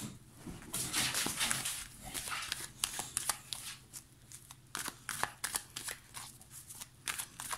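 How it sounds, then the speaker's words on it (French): Dog running around wildly indoors, with excited scrabbling, shuffling and snuffling sounds in quick irregular bursts, close by and moderately loud, over a low background hum. "il y a Taiko, comme vous l'entendez, qui fait un petit peu le fou, qui a son quart d'heure de folie"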